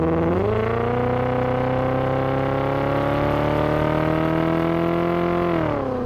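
A cut-down Bugatti Veyron engine runs smooth and steady, its tone climbing as it revs, holding a sustained high note for several seconds, then dropping back near the end. It sounds loud and close, with no talk.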